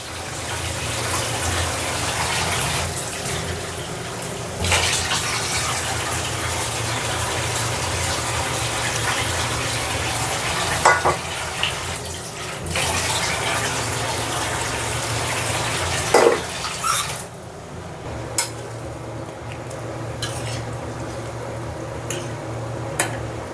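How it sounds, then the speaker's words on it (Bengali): Water is poured into a pot of simmering chicken and potato curry, a steady gushing pour with sloshing and brief bubbling, close and alone without talk, easing off near the end. "এবার পরিমাণ মতো পানি দিয়ে দিব।"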